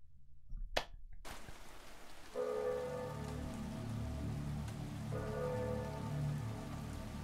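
Steady rain falling in a graveyard in a video game, a quiet continuous patter on surfaces after a couple of sharp knocks at the start, with a faint low hum beneath.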